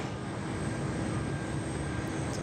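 A Qantas A380 airliner taxiing at Sydney Airport gives off a steady, distant engine rumble and hum that holds level and even throughout.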